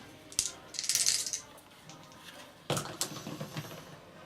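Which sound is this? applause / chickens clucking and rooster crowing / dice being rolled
dice being rolled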